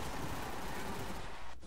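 Guns firing nonstop in the arena shooter Deathrun TV, a dense, quiet wash of rapid shots blending into a continuous crackling roar with no distinct gaps.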